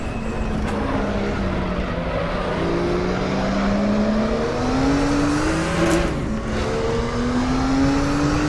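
A Porsche 934 Turbo RSR race car engine in the RaceRoom racing game drones steadily at high revs, pitch climbing and dipping as it shifts, loud and continuous with no voices.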